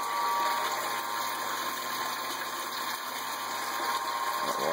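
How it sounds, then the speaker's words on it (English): An electric water pump runs steadily for the hot liquor tank in a basement electric brewery, a constant close mechanical hum with water flowing through it, no voices. "I'm going to crank on our water pump for our hot liquor tank"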